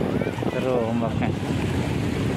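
Steady rush of ocean waves at Pulau Untung Jawa mixed with wind buffeting the microphone, continuous and fairly loud throughout, with a faint voice underneath.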